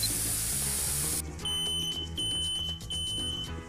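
A 40-euro smoke detector sounds its shrill, high-pitched alarm in repeated bursts, close and loud, after a short stretch of hissing noise.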